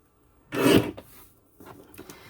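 Paper trimmer slicing paper strips: one short, sharp rasping cut, then quieter scraping and shuffling of the sheets, close and brief.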